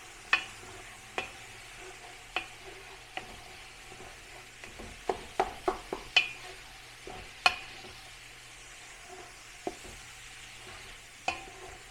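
A spoon scrapes and knocks against a pan as spiced meat is stirred over a low, steady sizzle, with about a dozen sharp clacks spaced irregularly through the mixing.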